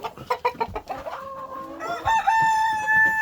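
Several quick, sharp clucks in a row, then a rooster lets out a long, loud crow close by.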